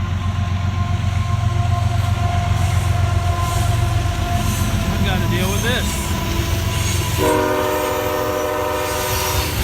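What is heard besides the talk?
train going by with horn near boatyard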